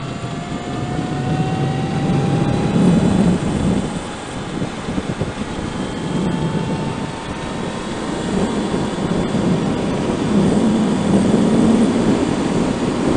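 An all-electric project trike cruises at about 60 mph in fifth gear around 4,600 RPM. Loud, steady wind rush buffets the microphone, with a faint motor whine and gentle swells in the roar.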